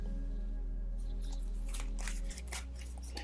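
A tarot deck shuffled close by, with a run of papery riffles and snaps in the second half over a steady low electrical hum.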